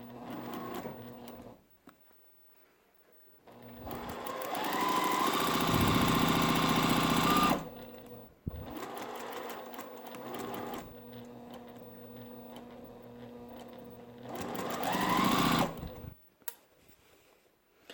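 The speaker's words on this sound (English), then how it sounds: "I'm gonna lower my presser foot. I'm gonna butt my block right up against my needle, and I'm gonna get stitching." A sewing machine stitches quilt blocks in a steady, fast mechanical whir. It runs in two long bursts separated by quiet pauses, with short clicks and stops at the start, middle and end, close and clear with no talking.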